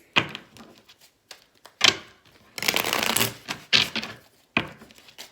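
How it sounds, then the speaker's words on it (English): A tarot card deck is shuffled close up in bursts of riffling and sliding cards, separated by short pauses and soft taps, with no talking. "let me just shuffle my tarot deck first"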